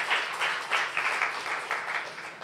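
A church congregation at a Saturday worship service claps together in a regular, rhythmic beat, each clap standing out as a distinct burst in a steady pulse.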